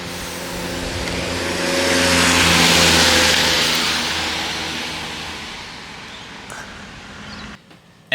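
An older car's engine revs up, swells and holds a loud, smooth drone while driving, then fades gradually and cuts off abruptly at the end.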